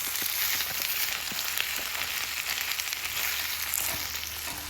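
Rice being stirred in a frying pan with a spatula gives a loud, continuous sizzle close by. Faint scraping strokes run underneath, steady throughout with no talking.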